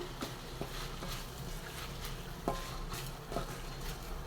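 Tomato and onion sautéing in a pan for urad dal chutney, a soft steady sizzle with occasional scrapes and clinks of a spoon stirring, fairly quiet and close, with no talking.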